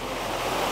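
Mountain river in rural El Salvador flowing with a steady, close, full rushing wash of water, continuous and without voices.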